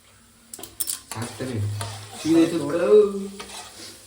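Chana dal and mustard seeds fry in oil in a pan, with a few sharp utensil clinks and stirring scrapes followed by a soft sizzle and faint background voices.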